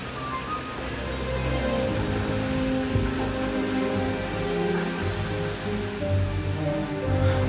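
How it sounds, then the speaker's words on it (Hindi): Vasudhara waterfall, about 122 m high in the Mana Valley near Badrinath, Uttarakhand, produces a steady, enveloping rush of falling water with no pauses. "उत्तराखंड के one of the tallest waterfalls में से एक, करीब 122 मीटर ऊंचा, ये है वसुधारा वाटरफॉल।"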